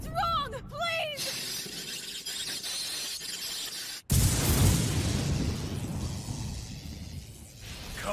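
An anime film explosion erupts as a sudden loud blast, then gives way to a rumbling, crackling roar with shattering debris that fades slowly. Dramatic shouting voices come before the blast.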